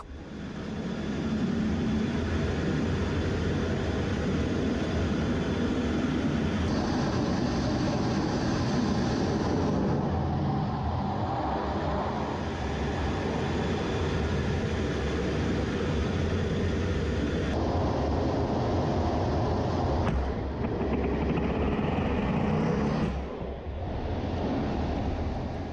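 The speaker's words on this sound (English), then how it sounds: "The pilot in this video was flying an FA-18F Super Hornet, a very popular and capable fighter jet." An FA-18F Super Hornet fighter jet roars through a catapult launch from the aircraft carrier USS Theodore Roosevelt, heard from inside the cockpit as a loud, sustained engine rumble and rush that shifts in tone several times.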